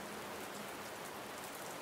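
Steady rainfall in a video game, a soft, even patter of drops on surfaces that fills the short stretch without a break.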